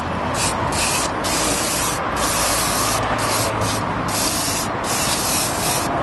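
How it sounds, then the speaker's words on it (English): Brake cleaner sprayed onto a Peugeot 207 rear brake disc hisses in a continuous, loud burst close by, with brief dips as the nozzle is released and pressed again. "Give it a good spray."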